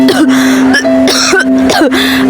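A mother in a Filipino radio drama coughs loudly and close up in a rough, phlegmy fit. Three or four hacking bursts run together with short breaths between them.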